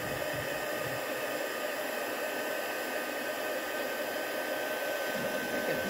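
A heat gun used for heat embossing a stamped card blows a steady, close whooshing hiss for several seconds without a break or any talk.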